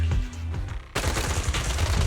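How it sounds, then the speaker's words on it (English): Heavy gunfire in the video game Zenless Zone Zero: a quieter stretch of scattered shots gives way to a dense, loud barrage of rapid overlapping bursts that continues without letup. "gunfire erupts like a relentless downpour"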